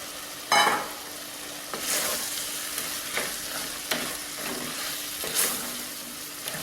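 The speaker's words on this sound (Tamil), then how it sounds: "இப்போ வந்து நம்ம குடமிளகாய் வதக்கிக்குவோம்." Capsicum sautéing in a pan for a capsicum masala gravy, a steady background sizzle broken by several sharp scrapes and clacks of a spatula stirring at irregular intervals.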